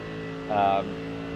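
A BMW M4 race car in iRacing at Watkins Glen, a steady engine drone with a brief rising note while the car moves up through the gears in the esses, under a voice.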